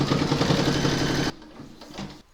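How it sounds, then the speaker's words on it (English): An embroidery machine stitches a panty liner in the hoop with a steady, fast mechanical whirr that stops abruptly partway through, leaving faint clicks and low handling noise. "Pop your hoop into your machine and stitch round number 5 to secure it."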